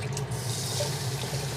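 Water running steadily from a kitchen tap into a sink while a plate that held only vegetables is rinsed, a close continuous splashing rush with no talking.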